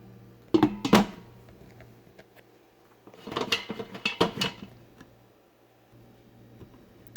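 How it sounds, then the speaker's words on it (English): Metal clanks and clatters as a lid goes onto a Fissler Souspreme multi pot with brown rice inside, in two short bursts of handling noise separated by quiet. "I'm going to put on our lid."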